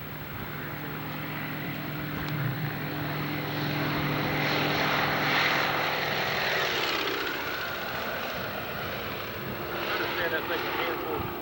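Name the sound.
propeller airplane flying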